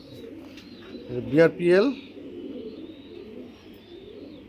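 Racing pigeons, young birds from a club breeder, give a couple of soft throaty coos close by, heard over a low room hum.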